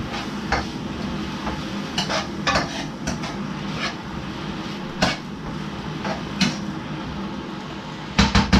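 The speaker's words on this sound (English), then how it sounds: "Stir this up, shall we?" Food being stirred in a home kitchen pan before spaghetti is cooked, with irregular metallic scrapes and clinks of utensil on cookware over a low sizzling bed, one louder burst of clatter near the end, no speech.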